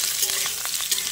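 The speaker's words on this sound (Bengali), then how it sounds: "আলুর সাথে পেঁয়াজগুলোও ভাজা ভাজা হয়ে যাবে" Potatoes and onions frying together in a pan give a brief, close, steady sizzle with soft crackles.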